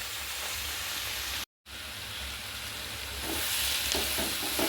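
Chopped onions soften in a pan for chicken curry, giving a steady, close sizzling hiss that cuts out for a brief moment and then grows slightly louder, with no voices.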